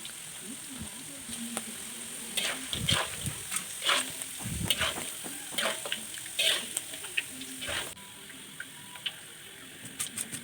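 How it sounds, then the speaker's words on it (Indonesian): Jengkol frying in a pan of oil gives a steady, moderate sizzle with scattered crackles and pops throughout, and no voices are heard. "Kalau digoreng seperti ini jengkolnya enak, nggak terlalu bau ya teman-teman."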